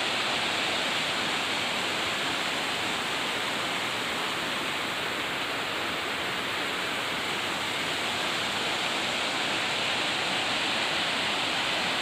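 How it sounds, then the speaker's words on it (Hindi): Steady broadband rush of a waterfall pouring into its pond in Odisha, a constant full-bodied hiss that holds unchanged throughout with no voices. "ये है झरना और ये है उसका पॉन्ड"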